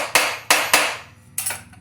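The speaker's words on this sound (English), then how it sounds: "I make sure that they are set with a hammer. So I'll lightly tap those down." Four sharp hammer taps setting rivets in a leather multi-tool sheath, each ringing briefly before fading, spaced unevenly: three close together, then a short pause before the last.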